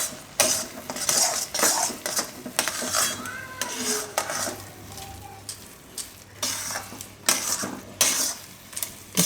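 Ragi upma stirred in a pan over low gas, with a spoon scraping and clinking against the metal in a steady run of repeated strokes, close up and without talk.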